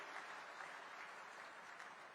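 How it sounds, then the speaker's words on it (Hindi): Crowd at an outdoor political rally in Sirsa, Haryana applauds, a steady, fairly faint wash of many hands clapping without a break. "एक बार जोरदार तालियों से बता दो कि 370 तोड़ने की खुशी हरियाणा के लोगों को कितनी है।"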